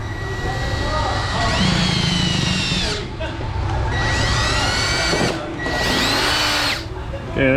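A power drill bores through material in a cluttered shop, its motor whining loud and close in three long bursts with rising and falling pitch, brief pauses between them, over a constant mechanical hum.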